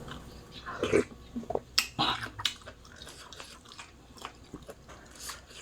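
Crunchy bites of food eaten with a Thai tom yum of canned fish and mixed seafood, several close crisp crunches and chewing sounds in irregular bursts, louder at first and then quieter.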